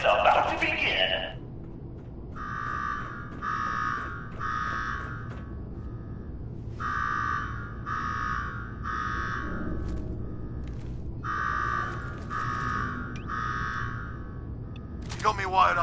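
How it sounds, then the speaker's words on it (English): An alarm in Fallout 4's Nuka-World sounds in repeating groups of three loud electronic buzzes, pausing between sets over a low hum, with short noise bursts at the start and end. "Now go shut off that damn alarm"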